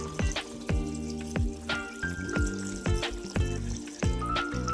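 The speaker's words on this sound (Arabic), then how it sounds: "هسه راح اضيف الصلصة الطماطة" Tomato sauce poured into a hot pan of meatless dolma, sizzling and bubbling steadily with repeated wet pops and splashes throughout, close and fairly loud, no talk.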